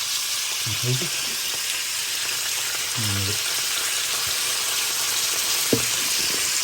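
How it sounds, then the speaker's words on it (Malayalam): White wine hits a hot pan to start a mushroom sauce for steak, giving a steady, close hiss of sizzling with a few brief low murmurs over it. "കുറച്ച് വൈറ്റ് വൈൻ ഒഴിച്ചു കൊടുക്കുക കേട്ടോ"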